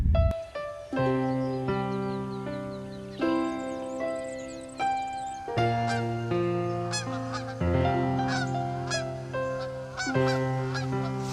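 Geese honk over and over in open countryside pasture among rolling hills, loud close calls overlapping in a steady chorus.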